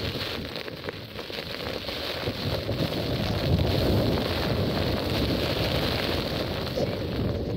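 Heavy rain pounds steadily on a Hilleberg Tarra tent in the Yorkshire Dales with gusty wind roaring around it, a dense, unbroken wash of noise with no voices.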